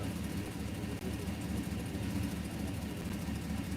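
A car engine with coil-over ignition idles and misfires, a steady low rumble with an uneven, stumbling pulse throughout and no talking.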